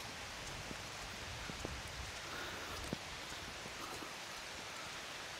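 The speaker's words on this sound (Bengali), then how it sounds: "তো বৃষ্টির পরিমাণ কিন্তু বাড়তেই আছে।" Rain falls outdoors near the Chandradinga hills at Kalmakanda, a soft, even hiss of steady rainfall with a few slightly louder drops standing out.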